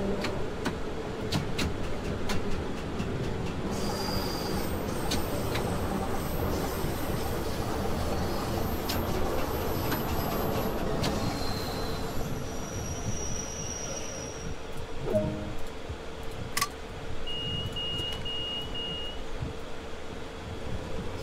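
A Bakerloo Line train in Train Sim World 2 pulls into Waterloo with a steady rumble of wheels on rail, high metallic squeals and brief clanks rising over the low drone of the running train.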